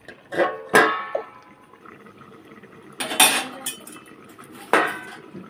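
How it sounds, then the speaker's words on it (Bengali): A lid is set onto a pot of simmering vegetable curry in a home kitchen, giving a few sharp metallic clanks and clinks spaced apart, with quieter bubbling between them. "ঝোলটা ফুটে গেছে ঢাকা দিয়ে দেবো"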